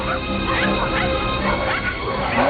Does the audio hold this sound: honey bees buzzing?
no